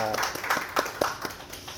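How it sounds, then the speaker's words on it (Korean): A church congregation claps briefly to welcome a visiting mission team. The scattered claps are fairly soft and mixed with room murmur. "박수하겠습니다. 환영합니다."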